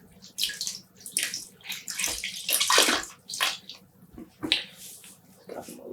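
Yarn dropped into a pan of water that has soaked for over half an hour while dyeing yarn at home, giving irregular close splashes, sloshes and drips in uneven bursts.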